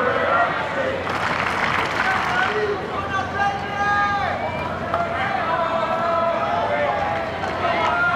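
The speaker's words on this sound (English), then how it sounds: "Crowd flooding in courtside now." Broad murmur of a crowd settling courtside at a tennis stadium, steady hubbub with scattered claps and footsteps, under a commentator's voice throughout.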